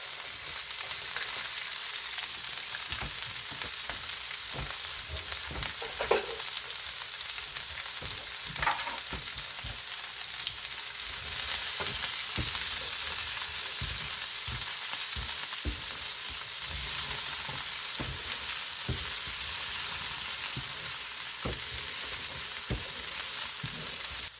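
Sliced peppers and onions sizzling loudly on an electric flat-top griddle for chicken fajitas, a dense, even hiss that holds steady with occasional spatula scrapes and knocks.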